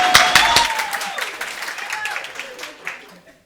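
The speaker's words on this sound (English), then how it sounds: "Please clap for me." Audience of women applauding at the close of a plenary discussion session, a short burst of clapping that starts strong and tapers off over a few seconds, with a voice speaking over it.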